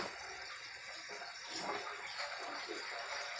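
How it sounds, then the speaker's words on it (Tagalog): Water running steadily into a cooking pot on a home stove while preparing squid soup with pancit canton noodles, a continuous broadband pour that holds level throughout with no voices. "Lagyan natin ng tubig."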